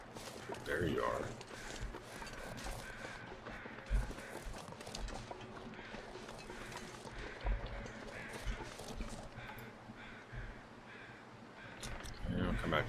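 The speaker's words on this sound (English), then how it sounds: "Thought I heard crows over here." Crows cawing in the video game The Long Dark, faint scattered caws in a quiet outdoor wilderness ambience with soft mechanical sounds and someone talking.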